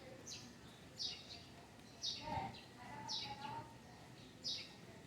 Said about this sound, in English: And there's a lot of birds. The birds will wake you up.